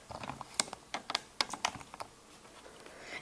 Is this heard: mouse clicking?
yes